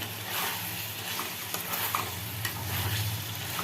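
Meat frying in oil with fenugreek in a pan, a dense continuous sizzle with occasional stirring scrapes and faint clicks, close and steady, no talk.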